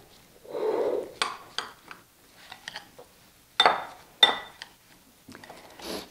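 Almond cracker ingredients being stirred in a bowl: scattered scrapes and a few sharp clinks of utensil against the bowl, sparse and fairly quiet, separated by short pauses.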